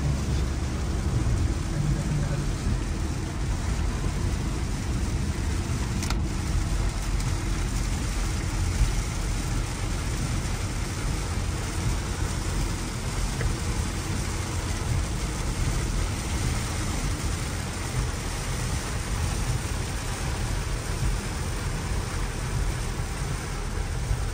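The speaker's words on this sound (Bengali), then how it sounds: "কী পরিমাণ বৃষ্টি হচ্ছে এই যে আপনারা বুঝতে পারছেন" Constant heavy downpour on a car driving at night on a highway hisses evenly for the whole stretch, loud and close, with a faint low engine-like hum beneath it.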